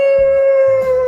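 A voice imitating a werewolf's howl or dog's bark, a short, loud, sustained tonal cry lasting about a second, delivered alone.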